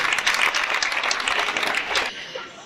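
Audience applause at a Miss Curvy Picardie beauty pageant, loud sustained clapping filling the hall before thinning out toward the end.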